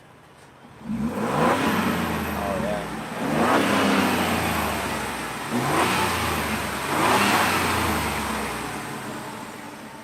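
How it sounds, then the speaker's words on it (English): A 2021 Ford Bronco First Edition's turbo engine revs up repeatedly in several swelling bursts, rising and falling close by, with a turbo whine audible and a brief voice over it. "If you go to the front, you can kind of hear the turbo."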